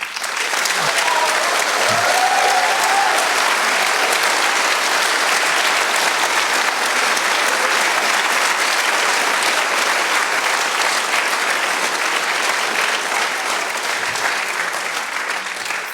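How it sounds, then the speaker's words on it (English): Sustained audience applause for the student organizers of the SensUS 2016 biosensor contest, loud and dense for the whole stretch, with a few faint cheers and stray voices mixed in. "it's worthwhile to have a cheer and a big applause for them"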